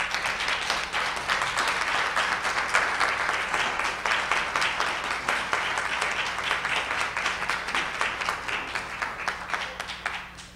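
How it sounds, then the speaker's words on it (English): An audience claps continuously, steady applause at moderate volume that slowly thins toward the end. "Let's give Mr. Cecil an applause, please."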